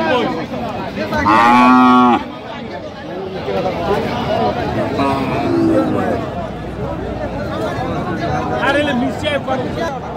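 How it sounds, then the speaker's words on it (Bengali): Cattle moo at a cow and calf market, with one loud, close, drawn-out moo early and fainter lowing later over steady crowd chatter and nearby talk. "গাভী বাছুর।"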